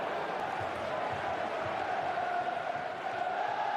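Continuous roar of a sellout crowd at a Manchester City versus Swansea City football match, a steady distant wash of voices with a commentator speaking over it.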